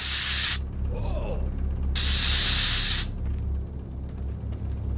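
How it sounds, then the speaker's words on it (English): Health aid spray in the VR zombie game Surv1v3 fires in two loud, close hissing blasts, a short one followed by a longer one, with a low background hum throughout. "Press grip button to grab aid sprays. A health spray is limited."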